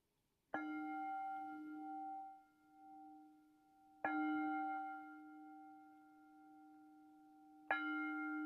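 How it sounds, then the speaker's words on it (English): A meditation bell struck three times at slow, even intervals, each strike a clear ringing tone that hangs and decays gently in a quiet room. "So, I'm going to invite the bell and as we move into our sitting meditation."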